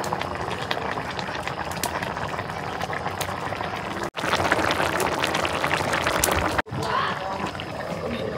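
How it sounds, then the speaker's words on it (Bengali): A pot of vegetable curry with broccoli, cauliflower and new potatoes boils vigorously, a loud, dense, steady bubbling and popping up close, broken by two brief cuts. "তরকারির বলে উঠছে, কি সুন্দর ফুটে ফুটে উঠছে দেখো তরকারি"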